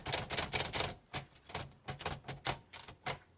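A 1936 Royal Model O manual typewriter clacks through a quick series of sharp mechanical strikes and backspace clicks, close and crisp, in an irregular rhythm with no voices.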